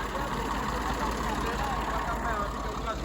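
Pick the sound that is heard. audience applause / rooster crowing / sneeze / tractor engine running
tractor engine running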